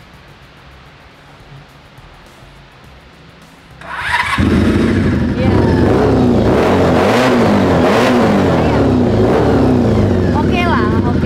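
A rare Mazda RX7 Veilside cranks and starts after a quiet stretch. Its engine then settles into a loud, rough idle close by, with rising revs and a voice briefly audible over it.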